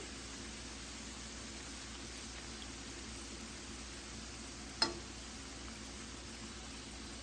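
Beef and cheese wontons frying in oil in a pot, a faint, steady sizzling hiss held throughout with one short sharp pop midway.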